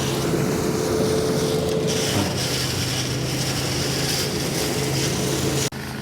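Tractor driving across a field while a spreader throws grass seed, a loud steady engine drone with wind rumble, continuous and close, cutting off sharply near the end.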